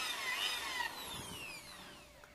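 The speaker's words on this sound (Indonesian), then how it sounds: "pakai mata bor 3 mili" A brief high-pitched drill whine from a 3 mm bit, slowly dropping in pitch as the motor spins down, fairly quiet overall.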